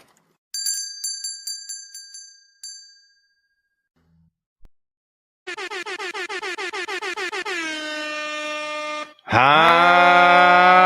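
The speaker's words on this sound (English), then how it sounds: "Just want to make sure my air horn work before I really give it to you." A few bell-like dings ring out, then a long pulsing air horn blares, followed by a second loud sustained horn blast.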